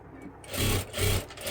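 Sewing machine stitching a katori blouse: two short bursts of fast, whirring mechanical stitching close by, separated by a brief pause, with no talk.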